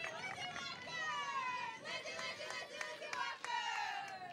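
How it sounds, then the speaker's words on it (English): Softball players on a team bench cheer for teammates during a high school game between Bloomington Jefferson and St. Louis Park, a continuous crowd of young voices shouting in bursts with chatter. "Cheer there for Bloomington."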